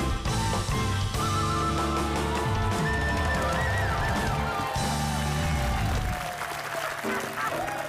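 Applause for a band at a live show comes under loud, continuous music with steady drums and sustained tones, and the clapping stays buried in the full mix throughout.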